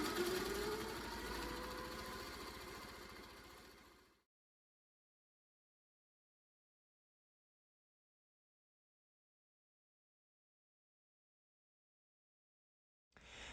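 A sewing machine stippling a quilt at higher speed gives a steady, fairly loud whir for about four seconds, then cuts to silence before briefly starting again at the very end.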